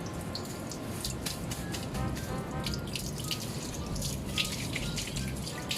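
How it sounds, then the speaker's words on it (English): Tap water running from a faucet while malunggay leaves are washed, a continuous close splashing with scattered drips and clinks throughout. "wash your malunggay in a clear running water or in the faucet"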